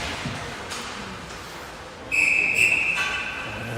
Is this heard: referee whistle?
yes